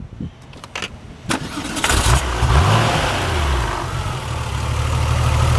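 A 1996 Porsche 993 Carrera Cabriolet's 3.6-litre air- and oil-cooled flat-six starts after a few clicks and a short crank, catching with a loud rev that settles into a steady, rumbling idle close by.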